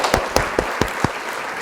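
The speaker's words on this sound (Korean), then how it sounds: "문종철 장로님께 감사의 박수 크게 보내주시면 감사하겠습니다" A few evenly spaced claps ring out at an Advent Sunday church service, five sharp nearby strikes in a steady quick rhythm, followed by quiet.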